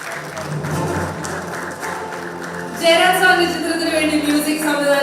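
At an award presentation, a voice speaks over a low murmur before the audience's clapping swells louder partway through and continues, with some voice or tonal sound mixed in.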